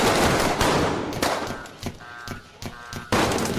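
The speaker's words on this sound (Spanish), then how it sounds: "Tiros. Tiros, y más tiros." Rapid gunfire inside a cargo ship amid a zombie apocalypse scene, dense bursts of shots at close range, loud and overlapping, with brief tonal honks mixed in.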